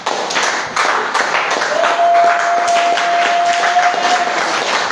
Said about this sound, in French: Les acclamations sont faibles.